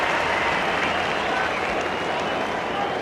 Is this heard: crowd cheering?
yes